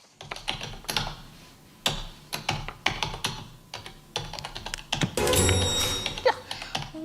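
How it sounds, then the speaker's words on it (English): Rapid typing on a QWERTY computer keyboard, close and crisp, with irregular clattering keystrokes and a heavier thunk near the end, as from the spacebar or enter key. "I'm going to play the sound of someone typing."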